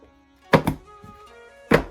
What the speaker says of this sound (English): Like that gives a thud, but this, like it's a thud.